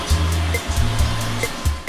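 An iRobot Roomba robot vacuum works a carpet in spot cleaning mode, a close, loud whirring hum that pulses in repeated swells as the brushes and motor change load.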